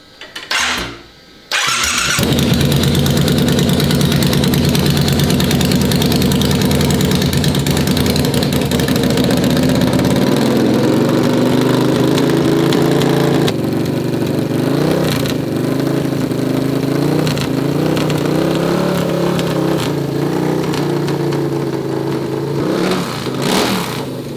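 A straight-piped, supercharged Triumph engine cranks over and fires, then runs loud and close with a rough, continuous roar that wavers slightly in pitch for about twenty seconds.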